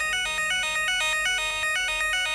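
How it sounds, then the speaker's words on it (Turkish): A burglar alarm notification sounding from a phone in a smart home security setup: a loud, repeating electronic ringtone-like pattern of stacked tones pulsing steadily, heard alone without talk. "Hırsız alarmı geldi."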